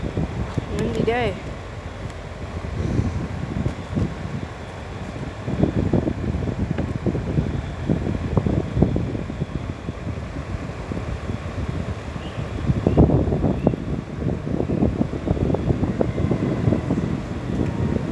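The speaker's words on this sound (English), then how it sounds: "Windy day." Wind buffets the microphone outdoors on a blustery day beside the railway tracks in Jacksonville, Florida, a continuous low rumbling roar that swells in gusts around the middle and again near the end.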